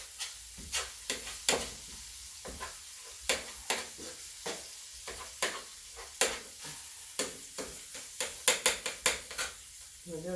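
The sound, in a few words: ground beef and pork cooking in a pan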